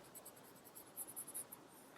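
A pencil rubs on paper to blend shading in a Zentangle drawing, quiet and close, with rhythmic scratchy strokes that quicken into a short burst of back-and-forth rubbing.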